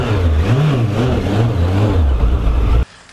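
Suzuki GSF1200S Bandit 1200 motorcycle engine revs up and down in a loud, close, wavering drone, then cuts off abruptly at the end.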